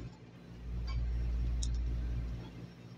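A Kolin air conditioner unit under repair for an E1 error starts up and runs with a loud low rumbling hum that swells after half a second, holds steady and then eases slightly, with a faint high whine above it.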